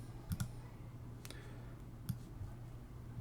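Computer mouse clicks, a quick double pair and then single clicks, sharp and close over a steady low hum, with no talking.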